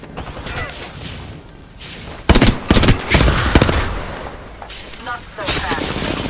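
Rapid video game gunfire in sustained bursts and volleys, loud and dense, with a voice talking over the shooting.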